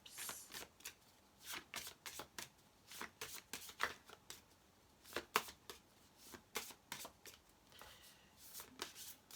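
Angel Script oracle cards being shuffled by hand, a long run of quick, crisp riffling bursts in an uneven rhythm, fairly faint and close with no talking.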